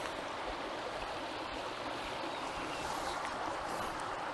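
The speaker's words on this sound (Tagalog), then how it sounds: "Ang nagustuhan ko dito itong ilog" A clean river flows steadily at a campsite in Tanay, Rizal, giving off a continuous, fairly close rushing wash of water with no talking.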